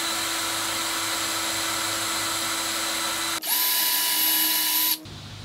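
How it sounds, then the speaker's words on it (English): A Forstner bit in a power drill bores countersinks for screw holes in a wooden desk case part, a loud steady whine that drops in tone partway through and shifts again just before stopping, with no talking. "With a Forstner bit, I'm going to countersink for some screws so I can attach this to the back of the case."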